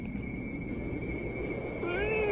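A cat meows close by, asking for cat treats early in the morning, a single drawn-out call rising near the end over a steady background hum.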